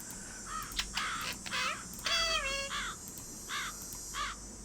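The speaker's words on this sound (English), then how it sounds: "One of these birds was making an interesting sound." Birds in the Nancy Drew: Ghost Dogs of Moon Lake video game give a string of harsh, crow-like cawing calls in separate bursts, some with rising and falling warbles, loud and near over quiet ambience.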